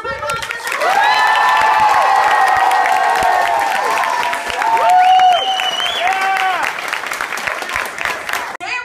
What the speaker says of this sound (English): Big round of applause for my boss